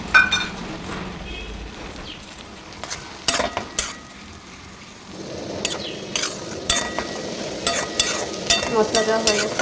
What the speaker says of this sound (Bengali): এবার আমি ভালোভাবে নেড়ে নেবো এটাকে, যাতে মশলার গন্ধটা না থাকে